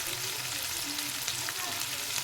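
Ground turmeric, chili powder, coriander and salt sizzle in hot oil while being stirred into radish greens in a pan, making a steady, close crackling hiss with no talking.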